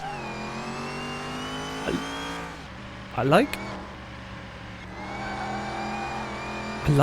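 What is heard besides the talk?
supercharged car engine whine in video game Car Mechanic Simulator 2021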